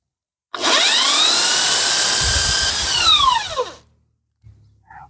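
An electric drill spinning a motorcycle engine part for sanding whirs steadily for about three seconds, its pitch sagging as it spins down, followed by a brief faint rustle.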